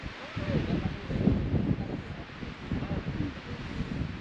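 Strong wind on the Fuego volcano gusts and buffets the microphone in a continuous rough roar, with a voice faintly audible beneath it.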